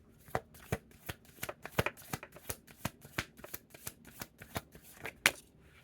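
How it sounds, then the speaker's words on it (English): Long playing cards are shuffled by hand in a steady series of crisp riffling bursts, close and fairly quiet, with one louder snap near the end. "these cards are a little bit longer, so it's hard to shuffle"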